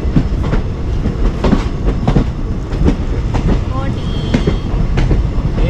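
A passenger train on the Goa to Vijayawada route runs close by with loud rhythmic clickety-clack of wheels over rail joints and a rumbling carriage roar.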